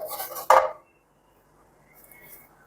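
A lid is set over a bowl of freshly kneaded dough in a home kitchen, giving one sharp metallic clank with a short rattle, followed by near silence and faint background noise.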